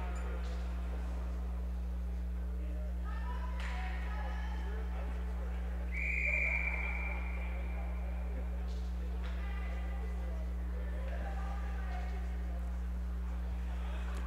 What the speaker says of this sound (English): We'll draw a whistle.